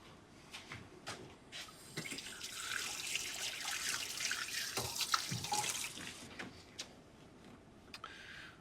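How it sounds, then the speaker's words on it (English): Cold tap water runs steadily into a sink while a cleaned whole fish is rinsed under it, a close splashing rush with small drips and trickles, no voices. "I'm gonna take it over to the sink and just rinse it out with some cold water."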